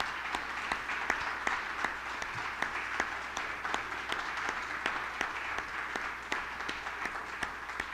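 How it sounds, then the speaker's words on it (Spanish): A church congregation at a Sunday celebration service applauds visiting members, steady clapping with sharp individual claps standing out through a moderately distant, even wash of hand claps. "vamos a darles un aplauso."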